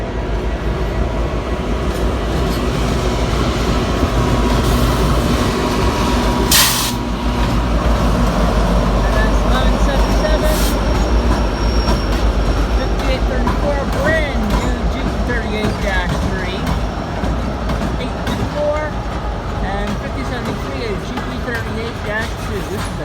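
An NS manifest freight train led by EMD locomotives, one a rebuilt GP35, crawling through Roanoke, a loud continuous low rumble and rolling rail noise close by, with people talking over it.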